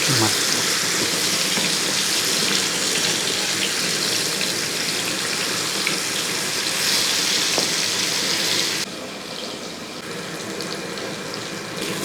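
Fish for a Kerala fish masala fries in a pan with a loud, steady hiss of sizzling oil that drops a little quieter near the end.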